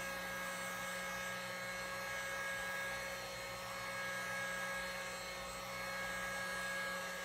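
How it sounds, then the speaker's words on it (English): A heat gun blows over wet epoxy on fishing rod guides, a steady, fairly quiet whirring hiss that holds evenly throughout with no speech. "and use the heat gun"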